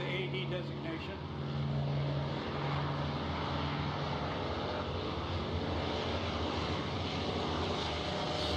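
A Douglas AD Skyraider's big Wright 3350 piston engine drones loudly and steadily during a flying display at EAA AirVenture 2025, with a commentator talking over it.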